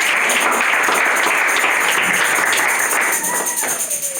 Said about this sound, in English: Clap your hands for Tsitsi.